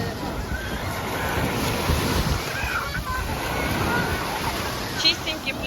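Waves wash steadily onto a clean beach by a warm sea, a continuous broad rush of surf mixed with wind buffeting the microphone.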